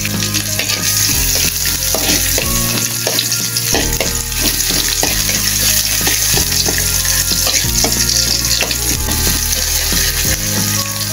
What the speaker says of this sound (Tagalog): Maggisa tayo ng luya. Sunod na natin ang sibuyas.